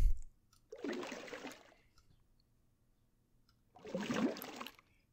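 Wet sloshing stir of hides in liquid inside the Minecraft SevTech Ages game, two separate watery bursts, each about a second long, with silence between them.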